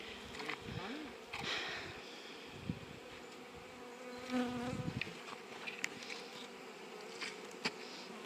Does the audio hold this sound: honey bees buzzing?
yes